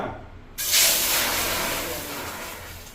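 Ginger juice poured into hot oil bursts into a loud, sudden sizzling hiss that swells then slowly eases off, continuous and close.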